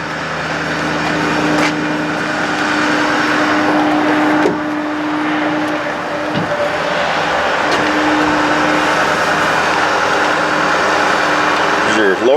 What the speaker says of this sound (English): Restart the vehicle.